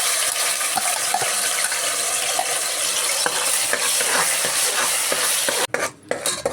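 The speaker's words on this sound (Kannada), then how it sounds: "ಈಗ ನಾನು ಗ್ರೈಂಡ್ ಮಾಡ್ಕೊಂಡಿರೋ ಮಸಾಲೆ ಹಾಕ್ಕೊಳ್ತಾ ಇದ್ದೀನಿ." Ground masala hits hot oil in a pressure cooker, giving a loud, continuous close-up sizzle with faint scraping, then a brief break near the end.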